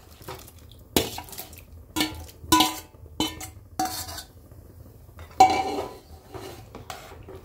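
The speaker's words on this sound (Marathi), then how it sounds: "आता चिकन टाकू पातेल्यात" Several sharp metallic clanks and scrapes of a utensil against a pot as chicken is added to water, spaced irregularly, with quiet gaps between them and no talking.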